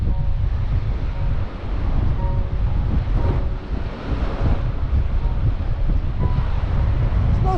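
Surf breaking on a beach at Buncrana, County Donegal, during Storm Kathleen, with strong wind buffeting the microphone: a steady, loud rush of wind and waves continues throughout with no talk.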